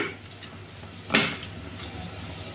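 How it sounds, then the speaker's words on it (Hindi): Egg halwa (ande ki jardi) is stirred slowly while it cooks, a spoon giving soft scrapes and one brighter clink against the pan, faint and close over a quiet background. "धीरे धीरे चलाते हुए इसको पका लेना है।"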